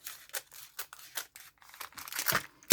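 Scissors snip through paper while trimming a February craft kit piece, a string of crisp, close cuts at an uneven pace, with crinkling and rustling building toward the end.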